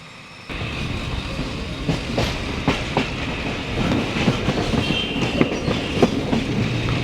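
A commuter express train runs along the rails, with a steady loud rumble and repeated clickety-clack wheel beats at a regular pace, heard from on board.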